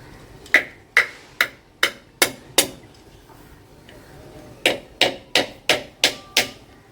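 Holes are punched into cooking pots with sharp metallic hammer blows: six evenly spaced strikes, a pause, then seven more, close and crisp with short ringing decays.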